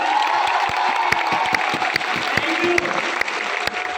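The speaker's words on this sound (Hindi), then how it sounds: "एक बार बहुत अच्छा ताली होनी चाहिए।" An audience at a motivational speech breaks into loud, dense applause, many hands clapping steadily throughout with a few sharper claps standing out, close and continuous, with some murmuring voices underneath.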